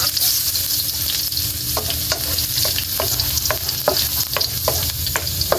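Garlic sautés in hot oil in a pan for eggplant omelette and mung bean stew, a steady loud sizzle with repeated sharp scraping stirs.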